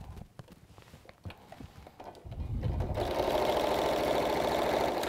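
A few soft handling taps, then a sewing machine starts up and runs steadily, stitching down the side of a quarter-inch seam on a fabric basket with a close, even whir.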